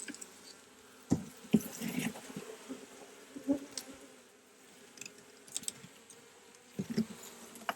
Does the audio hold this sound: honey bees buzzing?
yes